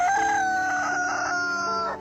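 A desi rooster crows once, close and loud, a long drawn-out call lasting about two seconds that fades at the end, with no talking.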